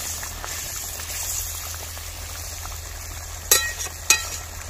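Rohu fish curry simmering in a pot, a soft steady bubbling under low kitchen hum, broken near the end by two sharp metallic clinks.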